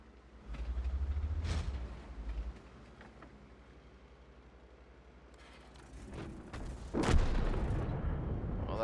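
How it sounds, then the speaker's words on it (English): Gunfire and booming blasts in a shooter video game, a heavy low rumble early on and a sharp loud burst near the end over a constant background wash, without talk. "Try to shoot over the rock here."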